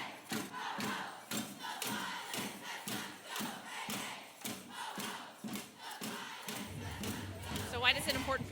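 A marching crowd at the Toronto Women's March chants in a steady rhythmic cadence, repeated shouted beats rolling on for several seconds, with a closer voice and some handling noise near the end.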